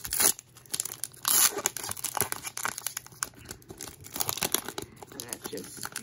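Crinkly foil Pokémon card packs being torn and crumpled by hand, with a few loud rips among continuous close crackling and rustling, mixed with speech.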